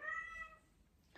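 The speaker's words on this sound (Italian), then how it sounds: "c'erano i miei gatti che quando miagolano" Cats meow indoors, a couple of clear tonal calls close by, loud at first and then fading, with a brief faint noise near the end.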